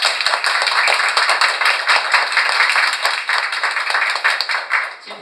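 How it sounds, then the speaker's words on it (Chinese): Warm applause fills a room at a book reissue press conference held at a hospital in Taichung: loud, close, rapid clapping from a crowd, continuous for several seconds before tapering slightly at the end. "让我们先用热烈的掌声为龙舟老师鼓励鼓励"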